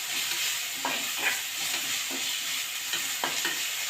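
Onions frying in oil previously used for frying potatoes give a steady broadband sizzle, broken by occasional soft stirring scrapes at close range, with no voices.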